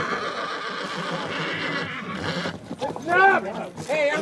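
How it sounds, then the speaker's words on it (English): Horses whinny and neigh close by amid a crowd murmuring and a hubbub of activity at the start of a 50-mile endurance race, with rising, quavering neighs toward the end over continuous background chatter. "Horses start arriving."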